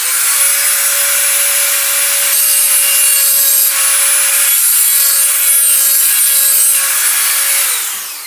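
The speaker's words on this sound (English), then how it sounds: "you can accomplish it with a little file" A small hand file rasps steadily across a burr on a Harley-Davidson ape hanger handlebar, a loud, continuous scraping with a faint ringing metallic tone throughout, close up and with no talking.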